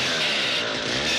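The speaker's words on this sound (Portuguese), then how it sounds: "Aí, a motosserra, mano" A chainsaw runs in a movie fight scene, a loud, steady, buzzing motor drone filling the whole moment without pause.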